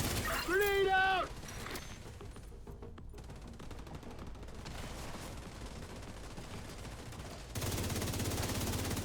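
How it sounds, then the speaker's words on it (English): A grenade blast in a military shooter video game, heard as a loud burst of crackling, shattering noise with scattered gunfire following, while voices talk over the action. "Grenade out!"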